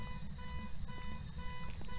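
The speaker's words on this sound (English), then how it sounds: "that's where the beeping sound's coming from" An electronic beep repeats at a steady pace in the video game Phasmophobia, thin and tonal over a low background rumble.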